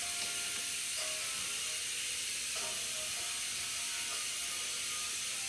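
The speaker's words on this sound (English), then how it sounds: "You might have to put a wrench on them." A wrench ratchets on the rear hub assembly bolts of a 2009-2017 Dodge Journey AWD, giving a few faint, scattered clicks over quiet background hiss.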